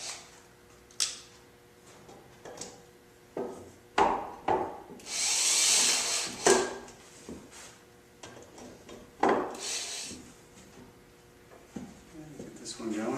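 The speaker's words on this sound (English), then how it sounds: "Use the drill driver." A drill driver runs screws into a Ramia Advanced 1500 workbench in repeated short whirring bursts, one sustained longer run among them, separated by wooden knocks and handling clatter, with a person talking throughout.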